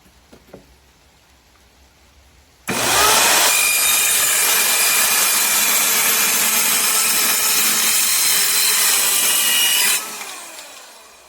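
DOVAMAN 5.8A 4-1/2 inch corded circular saw cutting through a wooden 2x4, a sudden loud sustained whine and rasp of blade through wood lasting about seven seconds, then spinning down, close to the listener.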